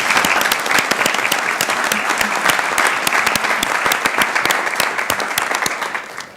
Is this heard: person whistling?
no